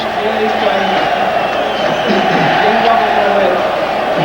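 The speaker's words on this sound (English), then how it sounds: "the capacity crowd here at historic El Toreo in Mexico City, chanting, ready to erupt" Capacity boxing crowd at El Toreo arena in Mexico City, a sustained roar of chanting and cheering voices, broad and continuous, with no single voice standing out.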